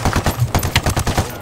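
Rapid gunfire in a video game, a quick string of about a dozen loud close shots in even rhythm, alone with no talk.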